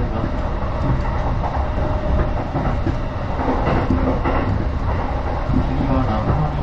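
Steady rumble and rattling clatter of a JR Chuo Line rapid train heard from inside the carriage, continuous and fairly loud throughout with faint background sounds.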